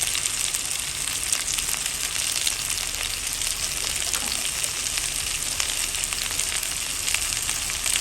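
Taro frying in oil with cumin and bay leaf gives a steady, even sizzle throughout, moderately loud, with faint stirring underneath and no talking.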